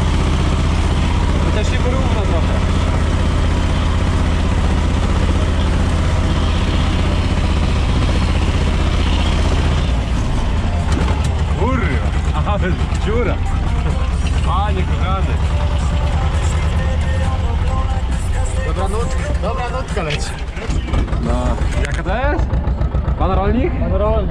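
A T-25A2 tractor engine runs with a steady low diesel drone throughout in a wet field, loud and close, while people talk over it.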